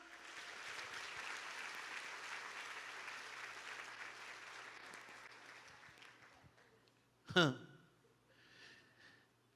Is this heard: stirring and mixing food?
no